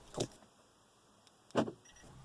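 Locks of a newer Volvo car actuated twice with a key fob, each a short mechanical thunk-whir about a second and a half apart, fairly close in a quiet space.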